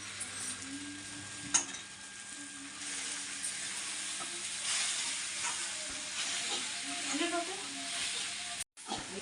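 Poha (flattened rice) being stirred in a frying pan after sugar and salt are added, a steady soft sizzle with scraping strokes running throughout, at moderate level, with low murmuring voices in the background.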